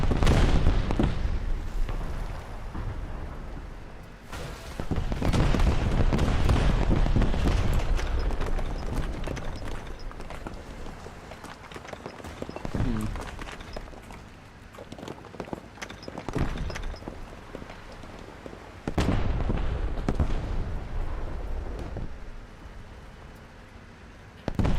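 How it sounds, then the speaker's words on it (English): Video game artillery fire lands as heavy, rumbling booms at irregular intervals, each blast loud and broad with a short rolling tail. "That's artillery."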